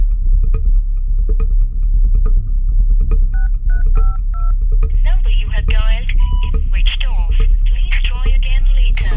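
A phone's keypad dialing tones sound as a short run of clear, evenly spaced beeps, alone over steady background hum and ambient noise, followed by people speaking.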